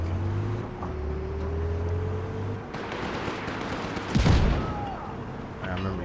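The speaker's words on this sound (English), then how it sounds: "I need to shoot the light." Gunfire in the Just Cause 3 video game as a traffic light is shot out, a sharp loud burst of shots midway over engine rumble and steady game noise, with brief talk.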